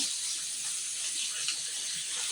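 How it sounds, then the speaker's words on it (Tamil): About a quarter cup of water is poured steadily into a cooking pan, a continuous close hissing splash with no breaks. "இன்னும் கொஞ்சம் ஒரு கால் கப்பு தண்ணி சேர்த்துடலாம்"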